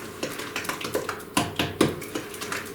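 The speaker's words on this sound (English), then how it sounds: "We're going to stir this all together." A utensil works butter, brown sugar and vanilla together in a bowl, giving a series of irregular close taps and scrapes against the dish, with no one talking.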